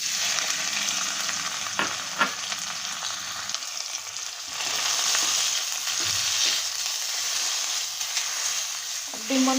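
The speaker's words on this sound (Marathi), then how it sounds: "आणि त्यात आपल्याला खवा परतून घ्यायचा आहे चांगला" Khoa being sautéed in ghee in a kadhai over low heat, a continuous close sizzle with occasional scraping stirs of a spoon.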